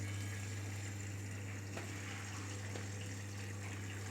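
A Samsung 6.5 kg fully automatic top-loading washing machine fills with water, a steady rushing flow over a strong constant motor or pump hum, unbroken throughout with no voices.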